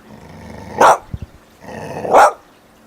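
A three-year-old pit bull gives two loud, deep barks about a second apart, with a brief low growling sound between them, close to the recorder and without talk.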